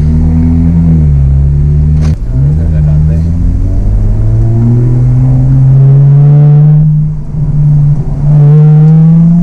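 A single-turbo BMW 335i engine pulls hard under acceleration on track, a steady rising drone with a brief lift and gear change, loud and close throughout.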